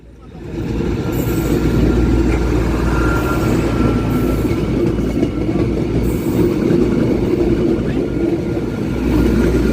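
Several railway locomotives and a train pass, tested at full throttle on an uphill grade near a bridge; a loud, steady rumble with metallic wheel clatter fills the whole stretch, without any talk.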